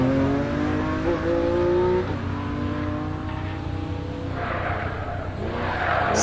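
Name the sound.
BMW hill climb race car sliding and revving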